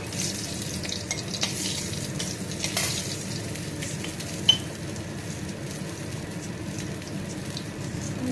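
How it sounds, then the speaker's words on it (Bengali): A bay leaf and dried red chillies crackle in hot oil, producing a steady, moderate sizzle with a few faint clicks and one sharper tap midway. "তেলটা গরম হয়ে গেছে একটা তেজপাতা দিয়ে দেব আর শুকনো লঙ্কা দেব"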